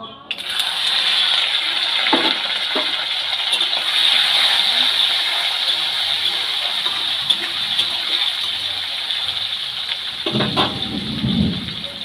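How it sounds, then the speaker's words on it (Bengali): Boiled taro stolons dropped into hot mustard oil in a wok, a loud, steady hiss and sizzle that holds for about ten seconds and then eases, with a few clatters near the end. "এবার সিদ্ধ করা কচুলতিগুলো আমি তেলের মধ্যে মিশিয়ে দেবো।"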